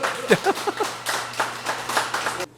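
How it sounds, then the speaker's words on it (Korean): A small audience at a local village safety-map presentation gives a short burst of clapping, with a voice briefly heard over it. The applause ends abruptly. "큰 박수 한번 보내주십시오."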